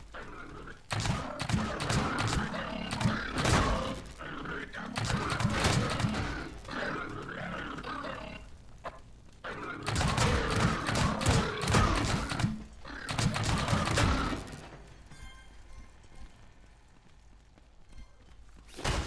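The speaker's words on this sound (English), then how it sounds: "I'm trying to shoot you" Gunfire in a scrapyard-themed survival video game comes in rapid bursts and heavy thumps, loud and close, broken by two pauses before a quieter tail; grunts and game noises mix in.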